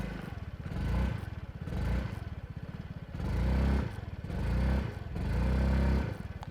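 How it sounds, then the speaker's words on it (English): Exhaust of a 2021 Yamaha Fascino 125 Hybrid scooter, a low, steady engine burble that swells in about five repeated throttle blips, close and moderately loud, with no talking. "Let's have a listen to the exhaust as well."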